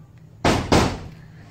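Two loud, sharp bangs about a third of a second apart, like someone knocking or banging on a door from inside a closed room, ringing out close by against a quiet background.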